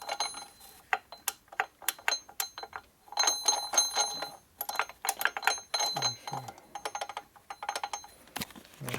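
A rotating gear in a rebuilt 1947 Harley-Davidson EL knucklehead 74ci motor gives off irregular, faint metallic dings and light clinks at close range, scattered unevenly with short gaps between them and no voices.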